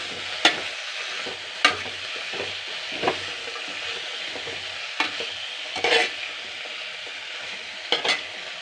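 Leafy greens wilt and sizzle gently in a hot pan while a spoon stirs them, giving a steady soft fry broken by a handful of sharp scraping strokes against the pan's surface, close and alone without talk.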